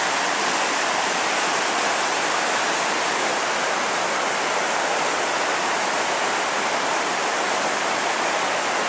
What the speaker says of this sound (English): I'm next to this river in the middle of the woods.